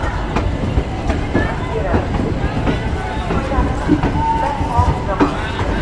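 A passenger train running late near Old Delhi on the way past Ghaziabad rolls along with a steady rumble and faint rhythmic wheel clatter, while people talk nearby throughout.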